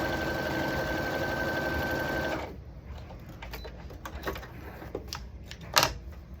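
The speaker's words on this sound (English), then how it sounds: "I'm sewing this one down." A sewing machine runs fast and steady as it stitches a see-through fabric strip onto a log cabin quilt block, then stops after about two seconds, leaving soft handling clicks and fabric rustles.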